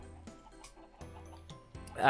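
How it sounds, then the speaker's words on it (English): Minecraft chickens on a chicken farm cluck softly in short, scattered bursts over a low, steady hum, ending with a louder, sharper squawk. "we've got the chicken farm, as you can hear."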